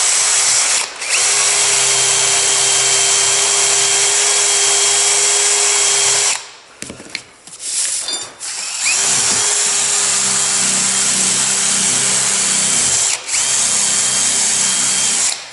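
A power tool polishes the 40-year-old portholes of a narrowboat, a loud steady whine running nearly the whole time, with a couple of short pauses and scraping bursts in the middle as the tool shifts position.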